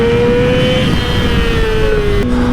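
A 2008 Yamaha R6 sport bike engine revving hard and steadily, its high-pitched tone holding near-constant before shifting down slightly at the end, loud and close with no talk.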